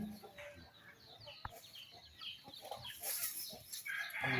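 Chickens and small chicks cluck and peep faintly around a farmyard, scattered soft calls with a louder burst near the end, distant and low in level.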